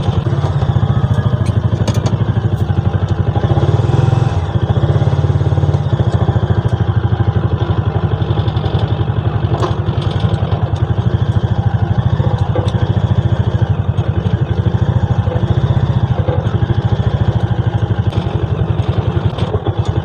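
A Piaggio Ape City 230cc tuk-tuk runs while reversing. Its small single-cylinder engine chugs loudly and continuously close by, with a rough, rattling putter and occasional clatter and no talk.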